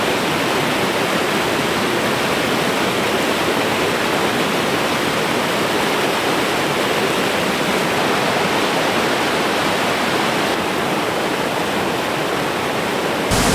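A loud, steady, close roar of a rushing neon-blue river, heard from down beside the water on a hike. The full-band noise runs unbroken with no talking.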